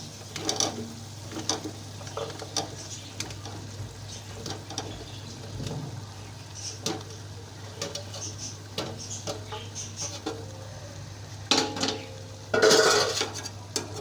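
A spoon stirs sliced ridge gourd into a cooked, oily masala in a pan, making intermittent scrapes and metallic clinks against the pan, fairly quiet and unhurried, with a louder clatter near the end.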